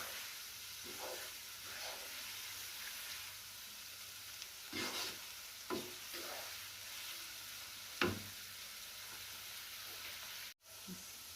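Rice is stir-fried in a pan for restaurant-style Chinese fried rice, with a constant soft sizzle and hiss broken by several scraping, tossing strokes of a spatula and one clunk near the end.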